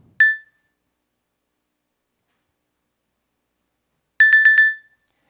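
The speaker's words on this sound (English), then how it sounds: "And then the alarm clock." A Nokia mobile phone alarm clock tone sounds a single short beep, then a quick burst of four beeps about four seconds later, clean and bright against total silence.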